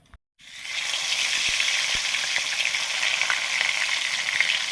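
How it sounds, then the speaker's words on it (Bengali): A catla fish head drops into hot mustard oil, a brief quiet moment giving way to a loud, steady hiss of frying that holds close and constant with faint crackles on top. "সর্ষের তেল দিয়ে দিয়েছি এবারে কাতলা মাছের মুড়োটা ভাজবো"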